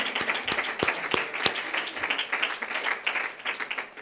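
An audience claps for Honduran ambassador Vania Garcia as she stands, a brisk mass of hands with a few sharp near claps standing out, fairly loud and continuous.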